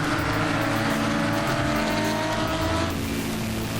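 Porsche GT3 Cup race cars at Brands Hatch roar past in a tight bunch onto the Cooper straight, their loud, overlapping engines screaming at high revs with brief tire squeal, then the noise shifts as they pull away.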